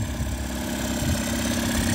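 A Mariner 9.9 four-stroke outboard motor idles steadily at low revs, a continuous mid-low throb with a faint buzzing vibration, close and alone with no voices.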